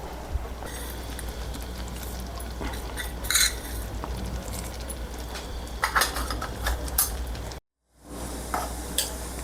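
Cumin, black and green cardamom, bay leaf, dried red chillies, cloves, asafoetida and chilli powder temper in hot oil in a pan for dal tadka, giving a steady close sizzle with occasional stirring scrapes and a brief cut near the end.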